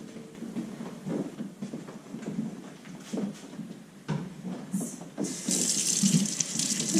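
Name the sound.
running water rinsing tubing to sanitize it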